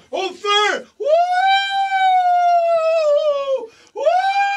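A person's voice imitates a fire alarm siren with long, loud, rising and falling wails, preceded and followed by shorter vocal bursts.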